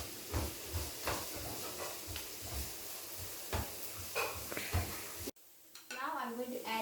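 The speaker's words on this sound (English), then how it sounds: "Now we have to fry for another minute, stirring very briskly" Ingredients hissing and sizzling in a hot pan while being stirred briskly, a steady close frying hiss broken by repeated scraping knocks of the utensil, then a sudden drop to quieter sizzling near the end.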